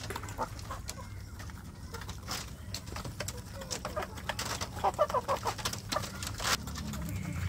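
Young village chickens cheep and cluck in a busy, overlapping chorus in a warm coop, close by, with faint clattering and low background noise throughout.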